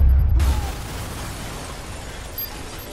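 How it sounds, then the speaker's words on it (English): A grenade blows up in the video game Watch Dogs: a loud burst at the very start that drops away into a fading rumbling tail with no talking. "Grenade!"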